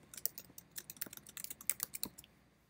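Rapid keystrokes on a computer keyboard typing a short phrase, a quick irregular burst of crisp clicks, close and alone.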